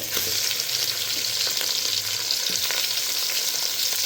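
Goat head and trotters sizzling in hot oil in a pan for a rustic country-style sambar, a steady loud crackling fry with no talking.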